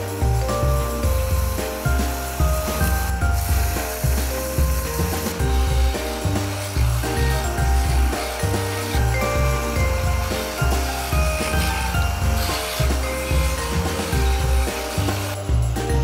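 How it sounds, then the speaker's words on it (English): Steady rhythmic rasping of sandpaper on the edges of a Manzanita wood box, repeated strokes back and forth at close range for the whole stretch. "I'm gonna finish sanding up around the edges here"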